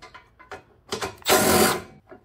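A socket tool on the 10 mm bolts of a Briggs & Stratton snowblower cover gives a few soft clicks, then a longer whirring buzz of a driver spinning a bolt out, up close.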